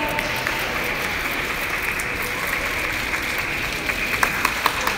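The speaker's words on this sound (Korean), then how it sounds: "유진 씨를 박수로 맞아볼까 합니다" Crowd of reporters and guests at a Montblanc UNICEF campaign launch applauds as the celebrity ambassador Eugene walks on stage, a steady wash of clapping with a few sharper individual claps near the end.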